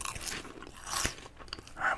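Dried peas being crunched and chewed close to the microphone, a few brittle bites and grinding crunches in a quiet setting.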